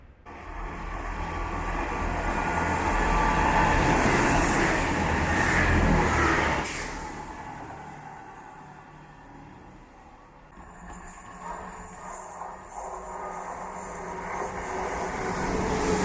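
A train rushes through a small suburban railway station, a loud broadband roar that builds and holds for several seconds before dropping away, then a quieter rumble as wheels and carriages continue past.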